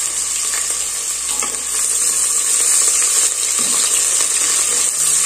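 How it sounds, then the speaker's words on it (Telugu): Onions frying in a pan after spices have been roasted, a steady loud sizzle with occasional stirring scrapes, running continuously with no talk. "మసాలా వేగిపోయిన తర్వాత కట్ చేసి పెట్టుకుని ఆనియన్స్ వేసేసుకుందాము."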